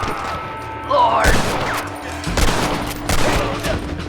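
Bursts of gunfire in the Western video game Red Dead Redemption, several sharp volleys of shots spaced a second or so apart, with someone shouting between them.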